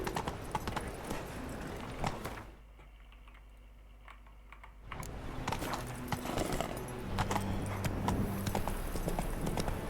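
Rapid hoofbeats of a horse galloping in The Witcher 3, steady clip-clop rhythm running throughout, briefly dropping out mid-clip before resuming with game ambience and faint tonal music underneath.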